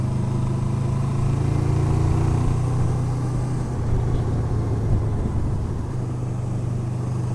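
A motorcycle cruises along a winding road, its mid-pitched engine droning steadily and loudly with slight shifts in tone, wind rush mixed in, and no talking.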